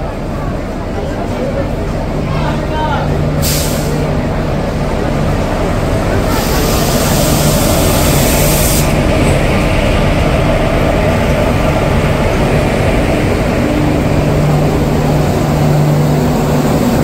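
Tamralipta Express train pulling into Digha station, a steady loud rumble and rolling roar filling the platform throughout, with a brief hiss bursts partway and a voice talking over it.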